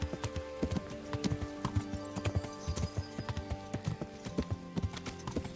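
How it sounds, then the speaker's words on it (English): A horse's hooves clip-clop in a steady, even rhythm in the Kingdom Come Deliverance video game, close and continuous, with occasional faint game sounds underneath. "I did not realize there was a horse you could mount to take."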